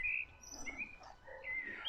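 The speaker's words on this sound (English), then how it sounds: "Oh, listen to that blackbird." A blackbird sings in a bluebell wood at Park Wood, Coventry, its faint, distant phrases of clear whistled notes repeating against quiet woodland background.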